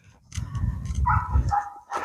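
A German Shorthaired Pointer lets out a few low, gruff barks and huffs up close, followed by brief higher yelps near the end.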